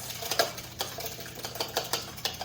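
A whisk beats eggs and milk together in a bowl, a quick rhythmic run of light clinks and taps against the bowl sides, close and alone.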